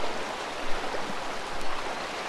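A jungle river rushes steadily nearby, a dense, continuous wash of flowing water with no voices, only slight swells in loudness.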